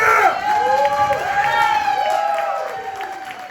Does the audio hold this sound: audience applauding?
yes